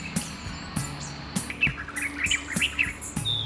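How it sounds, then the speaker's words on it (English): Wild birds near a bird hide in Hampi, Karnataka, chirp and tweet in scattered, overlapping calls, some sharp and close, others faint and distant, with no talk. "We were drawn towards lots of bird sounds."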